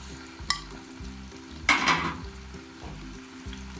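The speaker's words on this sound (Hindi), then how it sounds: "ये हमने 1 चमचा ऑयल का डाल दिया है और इसमें हमने ये एक कटी हुई प्याज भी डाल दी है" Chopped onion sizzling in a spoonful of hot oil with ground cumin and coriander, a steady crackling fry close by, with a brief louder hiss and stirring scrape partway through.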